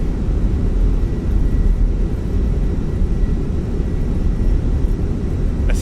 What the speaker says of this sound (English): I think I was a little low on the approach, but thankfully we touched down nice and smooth.